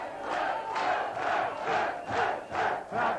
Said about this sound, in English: Crowd calling for Mountain.